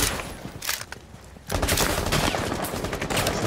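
Rainbow Six Siege gunfire: after a quieter stretch of scattered shots, a dense, loud burst of rapid automatic fire begins midway and keeps going.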